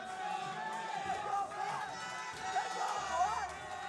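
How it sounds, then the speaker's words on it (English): Excited crowd at a live fight promotion event cheering and shouting after a bout awaiting the judges' decision, a steady dense roar of voices with swells throughout, fairly close and loud. "Crowd's excited."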